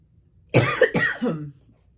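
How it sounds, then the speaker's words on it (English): A single close cough in two quick bursts, standing out against near silence. "I'm gonna cough."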